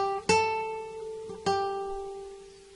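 Jingle Bells notes picked on the first string of a guitar, a few clear single plucked tones that ring and fade, played slowly and alone.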